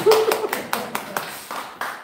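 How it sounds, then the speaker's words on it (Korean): A small church audience at a seminar on ministry and local mission claps in a sparse, uneven way, with about eight separate claps over two seconds and a short voice at the start. "박수"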